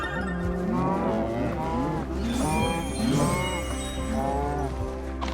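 Several cows moo repeatedly in Minecraft Dungeons, overlapping calls from a group over a steady game background with scuffling and hits.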